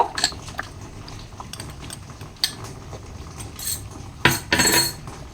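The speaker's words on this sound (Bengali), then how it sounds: "দিয়ে একটু নেড়ে নেব" Vegetable khichuri being stirred with spice powder in a pot, with a spoon scraping and clattering against metal in uneven strokes, ending in a louder scraping burst; no talking.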